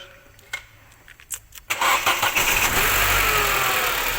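A car engine cranks and fires up during a crank sensor test for a late-starting fault, with clicks and brief starter whirs before catching and settling into a loud, steady idle close by.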